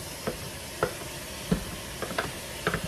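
Ground meat sizzles in an overheated All-Clad pan, a steady hiss broken by sharp scrapes and clacks of a spatula stirring at irregular intervals, close and alone without talk.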